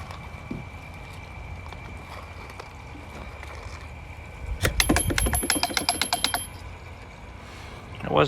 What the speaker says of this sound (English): that was me bumping the schoolhouse